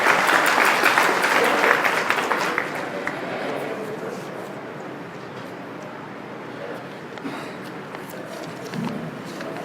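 Audience applause at the inauguration of an Urdu cultural centre in Nanded, a dense crowd clapping loudly at first, then easing to steadier, softer clapping with a few louder bursts near the end.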